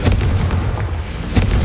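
A Confringo spell blast in Hogwarts Legacy, a loud booming burst up close with a second impact about a second later, heavy low rumble throughout.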